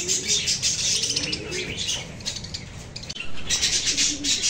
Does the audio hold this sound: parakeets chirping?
yes